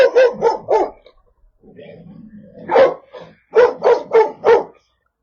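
A neglected dog at a rescue site barks repeatedly nearby in loud clusters, with a low growling whine between the bursts.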